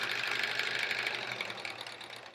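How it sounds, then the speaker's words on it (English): A sewing machine stitching quilt half-square triangles a quarter inch from a drawn diagonal, giving a fast, even mechanical whir with rapid needle ticking, close and fairly quiet, running steadily for a couple of seconds with no speech. "we sew a 1/4 inch from that diagonal"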